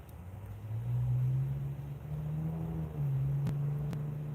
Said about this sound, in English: Can you hear the rumble of the engines?